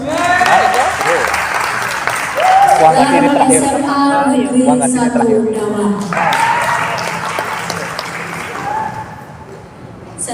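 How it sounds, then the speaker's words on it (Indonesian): An audience at a high school Balinese-language debate final applauds steadily for several seconds while an announcer speaks over the clapping, the crowd noise swelling and then fading slightly near the end. "Tepuk tangan dulu."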